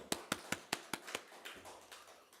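A Korean church congregation claps during a sermon: about six sharp, evenly spaced claps in a quick rhythm, then a looser patter that fades out. The sound is fairly faint and close, with no talking over it.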